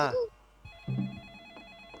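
Telephone ringing inside a Roblox game: a steady electronic ring sets in and keeps sounding, faint and thin, with a voice speaking briefly before it starts and short vocal sounds over it.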